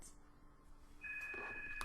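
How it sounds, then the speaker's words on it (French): A telephone rings indoors, its electronic tone starting partway through and holding steady and fairly clear over a quiet room. "on va attendre que le téléphone s'arrête"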